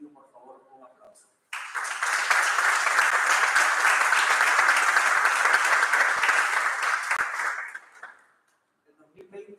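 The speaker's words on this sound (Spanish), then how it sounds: "A todos que yo pido, por favor, un aplauso." Audience applause at a high school graduation ceremony, a steady wash of clapping that starts abruptly, holds for about six seconds, then fades out, with brief talk before and after.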